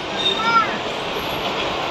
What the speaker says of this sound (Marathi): आता ट्रेन पकडली आहे अंधेरीवरून